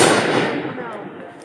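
Fireworks from a 2016 backyard display burst loudly at the start, leaving a broad crackling, hissing tail that fades away over a second or so.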